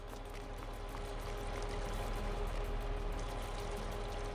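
Water pours steadily into a tank in the video game Farming Simulator 22, a continuous rushing flow over a low mechanical hum, with no voices.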